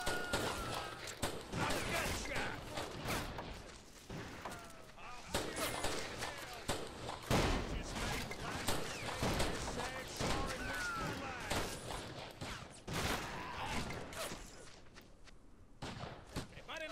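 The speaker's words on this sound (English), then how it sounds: "firefight is lasting for so much longer than I thought." Video game gunfire from a forty-versus-forty Wild West town shootout with Henry rifles: a dense, continuous stretch of rapid shots and thuds at mixed distances, with a voice talking over the battle.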